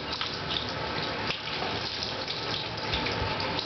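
Running water pours steadily from a tap during a dog's bath, a continuous close splashing rush that holds through the whole stretch with no talk.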